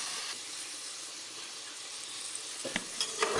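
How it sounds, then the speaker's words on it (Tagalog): Steady sizzling of chicken sautéing in a hot pan for sopas, with a few faint clinks near the end. "Sinangkutsa ko nga dyan yung aking chicken."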